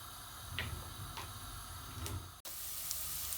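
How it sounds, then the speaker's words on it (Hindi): A medium onion, chopped into small pieces, sizzles faintly in hot oil with a steady, soft hiss and a few light ticks and pops. "और ऑयल में मैं यहाँ डाल रही हूँ ये एक दरमियानी प्याज"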